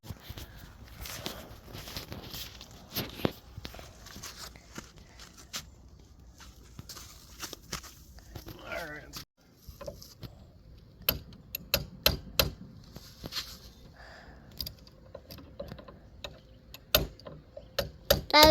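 A flat punch made from a socket extension struck with a hammer to drive out a throttle cable part on a 1988 Johnson Evinrude 40 hp outboard, a scattered run of sharp metallic knocks, sparse at first and then coming faster and louder.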